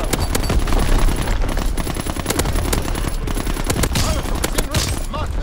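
Call of Duty gameplay with a dense, continuous barrage of rapid gunfire and booming artillery blasts, loud and close throughout, with occasional game voice lines mixed in.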